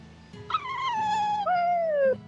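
A cat in the Tales of Berseria video game gives a single drawn-out meow that falls slowly in pitch, clear and close over a quiet low background hum.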